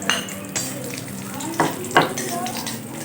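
Cashews and raisins frying in hot ghee for semolina halwa, a continuous sizzle with a few clinks of a spoon against the pan.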